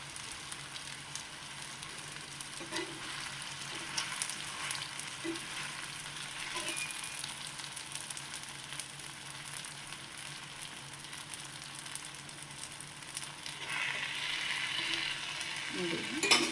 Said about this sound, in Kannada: ನೋಡಿ ಹೆಂಚು ಬಿಸಿಯಾಗಿದೆ, ರೊಟ್ಟಿ ತಟ್ಟಿದ್ದೀನಿ. ಹೆಂಚು ಮೇಲೆ ರೊಟ್ಟಿ ಹಾಕೋಣ.